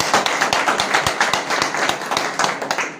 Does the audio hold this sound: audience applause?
yes